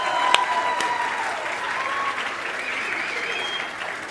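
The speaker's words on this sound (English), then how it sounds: "one more round of applause for these ladies" Sustained audience applause for young performers after a children's stage show, a dense wash of clapping throughout with a few cheers mixed in.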